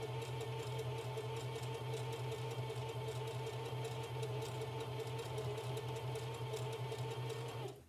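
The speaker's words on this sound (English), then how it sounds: "place my foot on the presser pedal and gently start to sew." A sewing machine runs steadily as a stitch is sewn, a continuous even mechanical whir with a fast rhythmic clatter, close and fairly quiet, stopping abruptly at the end with no talking.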